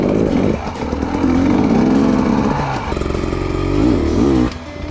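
A 2020 KTM 300 XCW two-stroke dirt bike engine runs loud and close for the whole stretch, its buzzing note rising and falling with the throttle before dropping slightly near the end.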